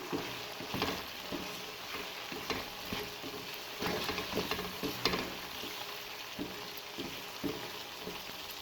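Chicken and peas stirred in a hot pan with salt and black pepper, a steady sizzle broken by repeated scraping strokes of a spoon, close and moderately loud with no voices.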